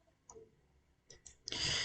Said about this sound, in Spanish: doble clic en cualquier sitio, con doble clic en esa ventanita arriba